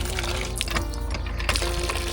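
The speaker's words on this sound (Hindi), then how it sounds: "बहन पानी भर रही है माशाल्लाह से" Water gushes steadily from a hand pump into a container as a woman fills it outdoors, a constant close splashing flow with faint clanks, and no voices.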